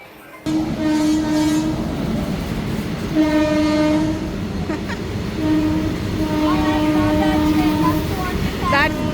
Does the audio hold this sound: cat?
no